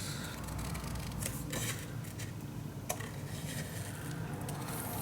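Scissors cutting paper along drawn lines for a craft project, a close, soft crunching and rasping that repeats in uneven snips over several seconds.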